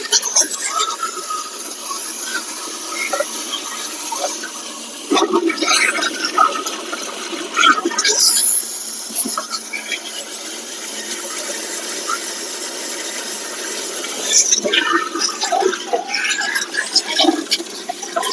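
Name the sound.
pressure water jet washing carbon out of John Deere 5210 tractor turbo and silencer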